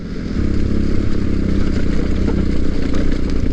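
A motorcycle engine runs loud and steady up close over rough ground, with rattling clatter on top of its continuous mid-pitched roar.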